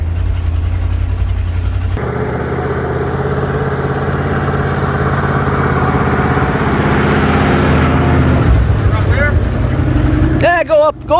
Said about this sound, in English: we're going up a hill with a load. She's pulling.